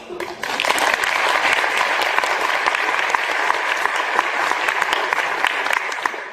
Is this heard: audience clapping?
yes